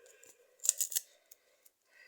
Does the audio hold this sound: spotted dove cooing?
no